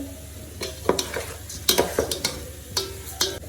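Rice frying in a pan as a spoon stirs it, giving soft sizzling under a series of sharp scraping and clinking strokes at an uneven rhythm, close and fairly loud, with no talking.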